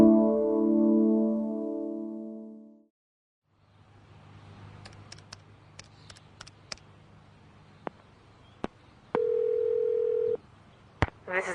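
A steady telephone dial tone hums for a few seconds, then after a pause come scattered faint clicks and taps and a short steady electronic tone, as if a number is being dialed for a collect call.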